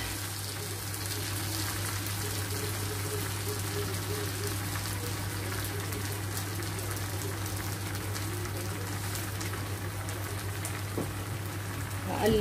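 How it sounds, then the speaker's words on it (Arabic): Rice and vermicelli frying in a pot while being stirred, a steady sizzling crackle with a constant low hum underneath, close and continuous throughout. "اقلب بقى ايه الرز مع الشعريه كده"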